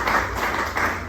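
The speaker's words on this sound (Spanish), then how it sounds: "Ya tienen un aplauso para la compañera." A class of students claps for a female classmate in a classroom, a short burst of close, busy hand claps lasting about a second with no one speaking.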